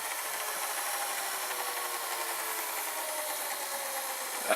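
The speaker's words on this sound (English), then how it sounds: "the rewind speed is pretty good on this VCR" A steady mechanical whir and hiss from a JVC HR-A56U VCR rewinding tape, continuous and even throughout, with a slight click at the very end.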